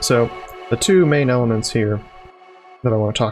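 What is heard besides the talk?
No everyday noise stands out behind the speech.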